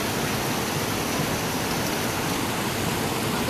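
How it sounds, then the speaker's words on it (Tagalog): A strong river rushes steadily near Wawa in Rodriguez, Rizal. The water roars as a loud, even broadband wash with no pauses and no voices. "Pag ganito tubig na malakas,"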